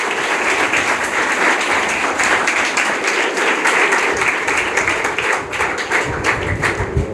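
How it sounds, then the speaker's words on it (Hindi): A standing congregation at a Kabir ashram in Devpur claps in welcome of an arriving spiritual teacher, a dense, continuous wash of hand claps that swells slightly toward the end. "आप लोग एक बार तालियों से अभिनंदन करेंगे"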